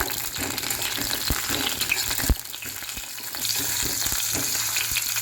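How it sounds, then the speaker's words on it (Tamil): Chopped tomatoes sautéing in oil in a pan for a tomato kulambu, a steady close sizzle and frying crackle with occasional stirring knocks against the pan, no voices. "அந்த தக்காளியும் ஆயிலையே நல்லா வதக்கி விடுங்க"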